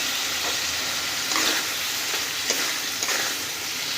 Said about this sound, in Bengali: আলুটাকে দিয়ে আরও বেশ কিছুক্ষণ আমরা একটু কষিয়ে নেব।